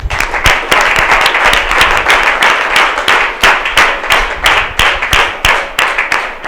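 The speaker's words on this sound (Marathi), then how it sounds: "तुम्हाला वाटत असेल तर टाळ्या वाजू शकता." A church congregation claps along in a fast, steady rhythm during a sermon, loud and close, the sharp hand claps running continuously without speech.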